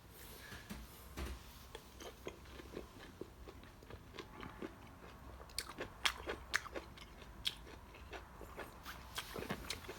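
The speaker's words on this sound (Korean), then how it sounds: "한 조각 먹어봐야 되겠네요" Someone bites into and chews a piece of hallabong citrus grown in a greenhouse, giving a series of soft wet crunches and chewing sounds close to the microphone, irregular and quiet, with no talking.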